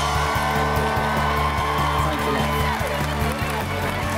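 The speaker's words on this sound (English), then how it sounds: "Please, a big round of applause for Alcide Desveaux." A studio audience at a televised cooking competition finale applauds a finalist, a dense, steady wash of clapping mixed with cheering and crowd noise that holds at full strength throughout.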